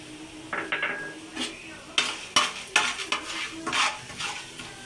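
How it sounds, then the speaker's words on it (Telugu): Peanuts and tempering spices fry in a pan for mango pulihora, with a spoon clinking and scraping against the pan in quick irregular strokes over a faint, soft sizzle. "పోపు దినుసులు కూడా వేసుకుని వేయించుకుందాం"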